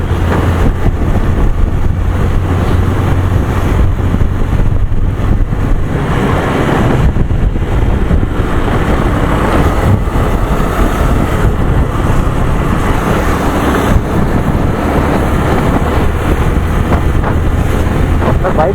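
Heavy wind buffeting roars steadily into the microphone throughout a motorbike ride on a cold mountain road in Uttarakhand, constant and loud, masking most other sound.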